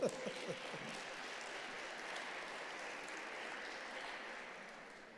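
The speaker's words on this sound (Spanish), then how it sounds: "Si quieren aplaudirlo con todo gusto, pueden hacerlo." An audience applauds at an open public debate on reform of a civil and commercial procedure code, with dense, even clapping that begins abruptly and holds steady throughout.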